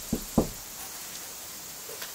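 Two sharp knocks on a hard surface land close together near the start, followed by quiet room tone and a faint tap near the end, with no voices.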